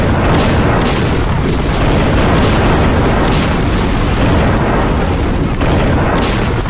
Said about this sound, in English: Commence the bombardment.